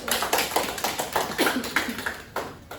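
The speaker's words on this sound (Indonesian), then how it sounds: "Oke, berikan tepuk tangan untuk kelompok 1." A classroom group claps in a university lesson on case-based learning, a fairly steady patter of hand claps with a few louder bursts running the whole stretch, heard from across the room without clear speech over it.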